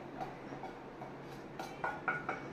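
Fried onion and tomato being spooned into a mixer jar in a kitchen: quiet metallic clinks and taps against the jar, sparse at first and then a few sharper knocks near the end.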